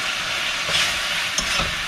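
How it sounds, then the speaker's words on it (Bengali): Brief stretch of steady frying sizzle as potato pieces sauté in a pan, with a couple of quick stirring scrapes near the end. "আলুটাকে একটু কষিয়ে নিচ্ছি"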